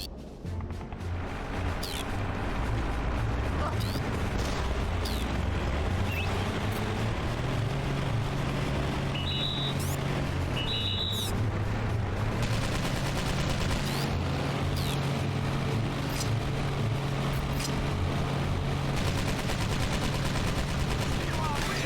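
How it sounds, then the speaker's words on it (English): Machine gun fire from a Light Recon vehicle in the video game Battalion Wars, rapid bursts over a steady, loud engine drone with game music, continuous throughout. "As the driver, you now have access to a machine gun."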